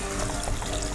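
Water poured into a pan of spicy pepper mutton curry, a brief, steady watery pour and trickle heard close up with no talking.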